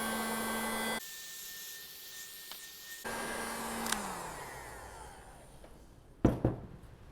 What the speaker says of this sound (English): So the next step is just to use the heat gun